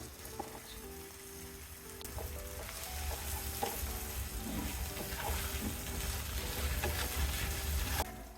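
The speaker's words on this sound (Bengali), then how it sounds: "দুই মিনিটের মতো আমি মশলা কষিয়ে নিয়েছি মশলা কষানো হয়ে গেছে" Spice paste for a Bengali fish and bean curry with tomato, coriander, chilli and cumin powders sizzles steadily in a pan, a continuous close frying hiss with occasional stirring clicks.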